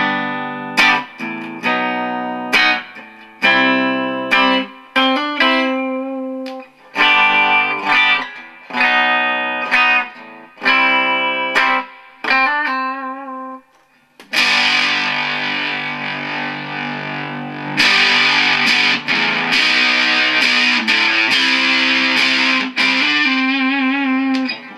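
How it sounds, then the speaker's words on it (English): An electric guitar plays the same riff twice, first in separate picked phrases on the neck pickup, then a denser, brighter, sustained distorted pass on the bridge pickup, loud and alone with no voice. "I'm going to play the same riff, neck pickup and bridge pickup with distortion"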